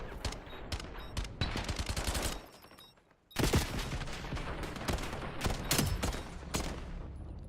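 Rapid gunfire in a competitive Call of Duty match, a fast chain of sharp shots that breaks off briefly before resuming with another dense flurry of close, loud reports.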